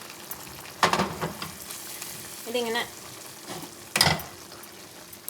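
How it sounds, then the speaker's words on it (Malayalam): Fried mustard-seed tempering goes into a pot of Angamaly fish curry with raw mango, giving a couple of sharp, brief sizzling bursts over a quiet background, with a short spoken phrase in between. "കടുക് വറുത്തത് ഇട്ടിട്ട് കുറച്ച് നേരം അതൊന്ന് അടച്ചു വെച്ചിരുന്നാൽ മതി"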